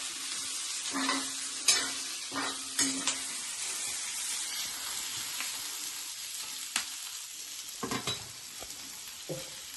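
Chopped onion browning in a pan for a Malvani-style crab curry, a steady sizzle broken by several sharp stirring scrapes and clinks near the start and end, close and fairly quiet, with no talking.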